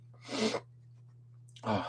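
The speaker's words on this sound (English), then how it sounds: "Just went into a sneezing fit." Two sharp sneezes from a person in a sneezing fit, a loud burst then a pause of about a second before the second, over a faint steady electrical hum.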